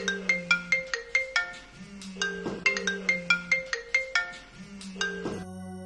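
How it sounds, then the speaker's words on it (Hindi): A phone's ringtone announces an incoming call, a quick bright melodic jingle of plucked notes over a low tone that repeats about three times in a steady loop, alone and clear without talking. "मुझे फ़ोन आया।"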